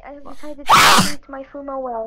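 A single loud, sharp human sneeze burst lands between stretches of casual speech during a livestreamed chat, with talking right before and after it.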